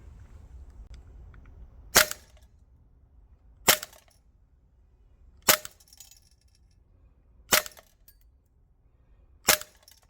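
An Acetech Drumfire airsoft gun fires 0.25 gram BBs on green gas, giving five sharp, isolated cracks roughly two seconds apart against a quiet outdoor background.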